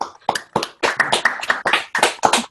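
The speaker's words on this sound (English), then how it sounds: "just a big round of applause" Scattered applause from a handful of people clapping over an online meeting, uneven bursts of hand claps with brief gaps, close and fairly clear, no talk.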